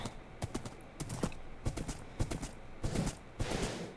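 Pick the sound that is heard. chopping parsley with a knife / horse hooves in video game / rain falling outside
horse hooves in video game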